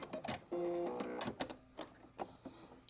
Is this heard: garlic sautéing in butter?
no